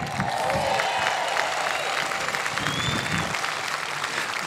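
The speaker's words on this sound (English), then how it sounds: "let's hear you cheer then" Large outdoor festival crowd cheering and applauding steadily at a concert by a marines band, a dense continuous roar of clapping and whoops with a few whistles, loud and sustained throughout.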